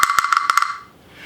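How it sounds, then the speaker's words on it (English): Small wooden bell with a metal clapper, struck in a quick irregular series of dry, clacking knocks with short ringing overtones, fairly close and moderately loud, then fading to quiet. "the rest of this bell is made of wood"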